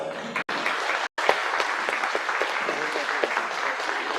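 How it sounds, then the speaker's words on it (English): Sustained crowd applause at a youth livestock event, dense clapping from many hands throughout, with a couple of brief cuts near the start. "Let's give them all a big round of applause."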